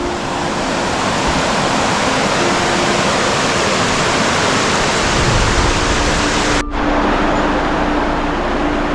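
Livingston Falls, a river waterfall tumbling past a carved swimming area in the mountains, roars as a steady, dense rush of water, loud and close, with no break or talk.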